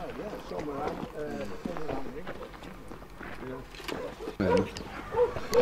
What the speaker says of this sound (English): All having a good bark at us.